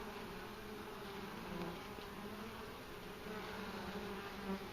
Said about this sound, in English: They're trying to make honey storage on a brood bar.